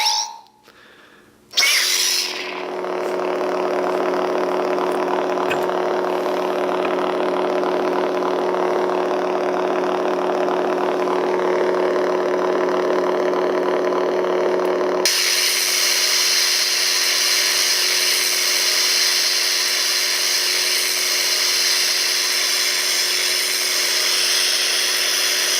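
A Rev-N lightsaber replica with a Crystal Shard V3 22 mm sound board ignites with a quick burst, then settles into a loud, steady electronic hum that shifts to a brighter tone partway through, with no voices.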